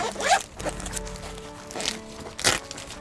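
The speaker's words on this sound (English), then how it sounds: "Simply do your zippers up." Zippers on an MDC Jackson forward-fold camper trailer's canvas storage sections being done up, with several quick rasping zips close by, the sharpest burst near the end, with faint handling noise between.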